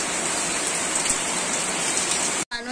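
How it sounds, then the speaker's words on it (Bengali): A heavy downpour roars steadily and loudly, a dense wash of rain hammering surfaces in strong wind, ending in a brief cut. "এত অপেক্ষার পর মুষলধারে বৃষ্টি"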